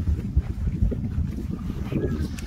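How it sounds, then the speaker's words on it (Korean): Gusty wind on a Japanese golf course buffets the microphone with uneven low rumbling and thumping, fairly loud, over a faint background. "바람이 좀 부네요."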